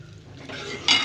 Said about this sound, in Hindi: थोड़ा सा पहले मैं आलूओं को मिक्स कर दूँ मसाले के अंदर, फिर हम सेम डाल देंगे।